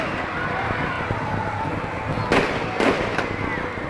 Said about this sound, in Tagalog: Namangha ang lahat sa napakabonggang fireworks display na tumagal ng halos 6 na minuto